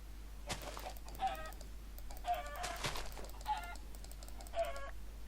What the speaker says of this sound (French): On a des poulets, ça c'est bien.